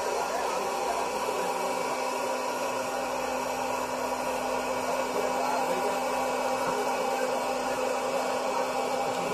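A Sokany portable hot air popcorn maker runs with a steady, loud, even fan whir like a hair dryer, filling the whole stretch. No distinct kernel pops stand out above it.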